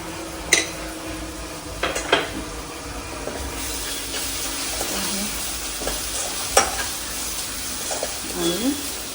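Masala paste for prawn sukka gets stirred in a pan, a low sizzle broken by scattered spoon clatters and scrapes against the metal, with a few louder knocks.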